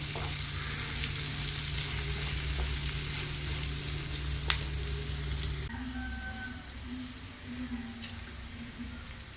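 Two medium onions sauté in the same oil left over from frying mussels, giving a steady, close sizzle with light stirring scrapes throughout, and no talking.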